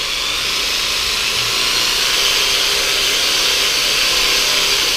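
A homemade percussion massager made from a Recipro Tools universal attachment with a rubber ball runs continuously, a loud, steady buzzing whir with no pauses.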